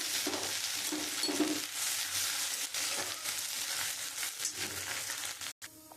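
Bay leaves and whole cumin are tempered in hot oil for a rohu fish head and papaya ghonto. They give off a steady, close sizzle with some stirring scrapes, running continuously and cutting out briefly near the end.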